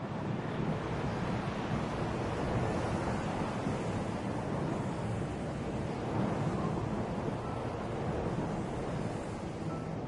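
Storm wind and crashing surf roar steadily around a bald eagle nest, a dense, continuous wash of gusting wind and breaking waves with heavy wind buffeting on the microphone and no voices.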